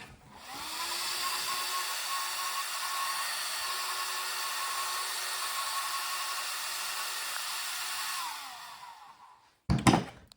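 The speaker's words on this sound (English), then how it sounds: "plug the fan in." A small motor cooling fan on a Traxxas Hoss RC truck whirs steadily at close range with a thin high whine, spinning up, holding for about eight seconds, then winding down, followed by a few handling clicks.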